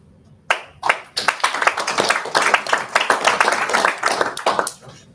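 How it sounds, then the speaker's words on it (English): A panel audience claps for a speaker at a public-services policy event, a burst of close, crisp hand claps building quickly and holding for several seconds before tapering off. "We clap after each person."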